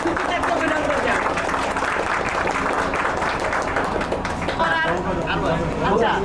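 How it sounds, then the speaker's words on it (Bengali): An audience claps at a centenary celebration, with dense, continuous applause at moderate loudness sustained throughout and voices mixed underneath. "আমরা সবাই করতালি দিয়ে সুচিতাকে অভিনন্দন জানাই"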